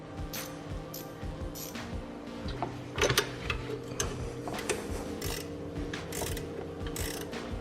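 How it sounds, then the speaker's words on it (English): A ratcheting wrench turns a 12 mm belt adjuster bolt on a supercharged Toyota 4Runner engine in a garage, giving a soft, steady run of fine clicking pawl ticks with occasional metallic clinks, close up and fairly quiet. "it's a 12 millimeter bolt, so I'm going to use a ratcheting wrench on it"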